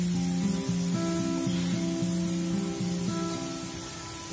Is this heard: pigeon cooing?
no